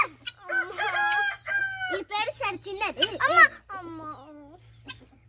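Close, noisy hens clucking and squawking in rapid, overlapping bursts, with voices mixed in among the birds.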